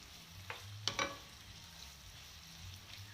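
Onions sauté quietly in a pan with a faint, low sizzle, broken by a couple of brief scraping stirs near the start.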